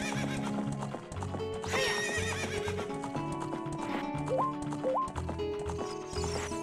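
Horse neighing and whinnying with galloping hoofbeats in Zelda: Ocarina of Time, loud and close, layered over steady game music throughout.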